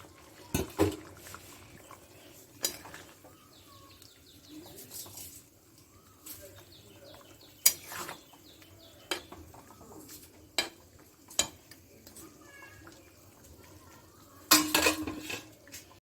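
Fish and lentil dumplings (bori) simmer in a thin broth in a pot, heard as scattered metallic clinks and scrapes of a spoon against the pot, spaced and sharp over a quiet bubbling background, with birds cooing faintly nearby.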